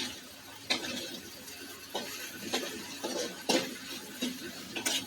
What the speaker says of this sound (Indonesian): Jadi saya tumis mengering, tidak lembek